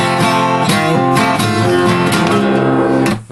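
Acoustic-style guitar playing the opening bar, a quick busy run of picked and strummed notes with pull-offs, close and loud with no voice over it.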